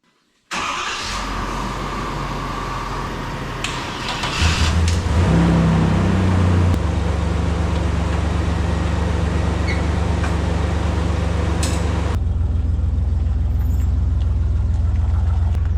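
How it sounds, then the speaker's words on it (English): A pickup truck engine, one of two batteries, idles steadily after a jump start, starting up near the beginning and holding a loud, constant low rumble with a few brief clanks and a slight rev mid-way. "All right, don't shut this pickup off."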